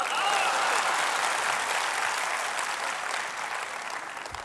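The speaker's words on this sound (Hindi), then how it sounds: "इसका मतलब आपको ताली मारनी है।" Audience applause at a Delhi civic event, a dense burst of clapping that holds steady then gradually thins toward the end.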